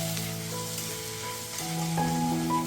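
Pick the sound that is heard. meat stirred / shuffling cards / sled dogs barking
meat stirred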